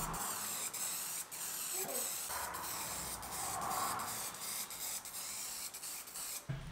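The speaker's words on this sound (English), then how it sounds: "sprayed on some black spray paint to the inside to help freshen it up" Continuous hissing spray from a can of black spray paint onto the inside of an old hand plane, steady and close, with a few brief pauses and bursts across its length.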